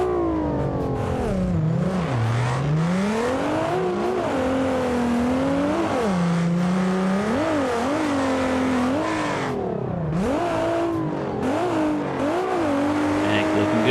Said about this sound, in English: car sounds good though, and I love the exhaust